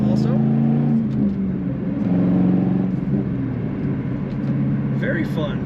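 A black 1999 Chevrolet Camaro Z28 with SLP performance parts drones steadily while driving, its low engine note rising and falling slightly from inside the cabin as someone talks over it.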